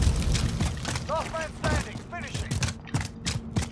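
Sniper rifle shots in a video game, several sharp cracks scattered among busy in-game action and clattering effects, fairly close, with a voice briefly talking over the gameplay.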